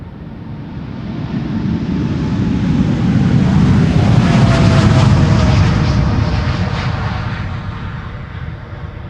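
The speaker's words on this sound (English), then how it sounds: "This is KLM flight 603 to LAX, 7879 Dreamliner, BHC." KLM Boeing 787-9 Dreamliner at Schiphol airport: jet engine roar swells as the plane approaches, peaks loud at mid-pass, then fades as it moves away.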